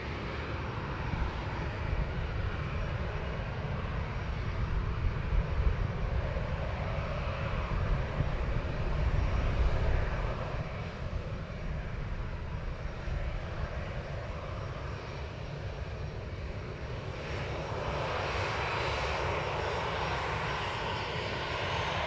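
A Ryanair Boeing 737-800 at Manchester Airport gives off a broad, steady jet engine roar that swells to a peak midway and then holds on at a lower, even level, with no talking.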